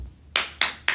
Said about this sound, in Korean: 잘했다. 박수